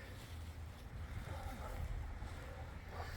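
Wind gusting through a garden as a cold front moves in, a steady low rumble of buffeting against the microphone lasting a few seconds with no voices.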